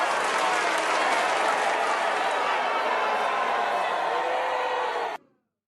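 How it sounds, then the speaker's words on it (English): A canned crowd reaction from a boo button plays as a loud, dense roar of massed voices and noise that holds steady for about five seconds, then cuts off abruptly into silence. "I'm booing this. I'm pressing the boo button."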